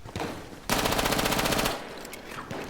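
Rapid burst of shots from a Model 1900 shotgun in a video game, a loud, dense volley of evenly spaced blasts lasting about a second, framed by quieter gunfire and game noise before and after.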